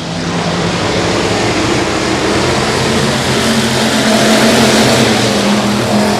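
Stock cars in a factory stock B main event at Boothill Speedway roar at the green flag start, a dense, loud, continuous engine wall that swells slightly as the field accelerates.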